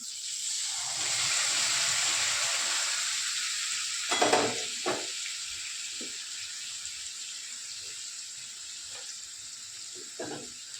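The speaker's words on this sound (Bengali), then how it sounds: "আর এখন দিয়ে দিচ্ছি তিল আর কাঁচা লঙ্কা বেটে রেখেছিলাম, সেটা দিয়ে দেবো" Sesame and green chilli paste hits hot oil in a pan while a pointed gourd dish cooks, giving a steady, close broadband sizzle with a few soft clatters of stirring partway through.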